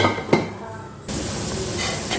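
Ivy gourd (tindora) pieces frying in oil in a pan, a brief clink of a utensil, then a steady bright sizzle as the pieces are stirred.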